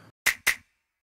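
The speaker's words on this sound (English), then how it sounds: "I also added this snap." Two sharp, bright finger-snap sample clicks a quarter second apart, crisp and dry with a short tail, close and clean with nothing else around them.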